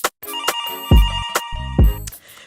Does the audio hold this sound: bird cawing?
no